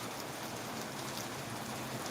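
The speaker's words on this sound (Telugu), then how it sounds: "ఇప్పుడు మళ్ళీ రీస్టార్ట్ అయింది వర్షం మీకు ఈ లైవ్లో చూపిస్తున్నా చూడండి చినుకులు ఎలా పడుతున్నాయో" Drizzling rain falls steadily in a village, a soft continuous patter of drops with no voices, even and unbroken throughout.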